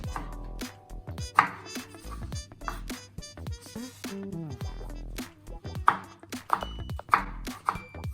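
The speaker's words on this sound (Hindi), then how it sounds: "टमाटर काट लेते हैं, उनको भी बारीक बारीक काटना है।" A knife chops tomatoes finely on a board, with scattered crisp taps between ringing music tones and short pauses, while a voice talks now and then.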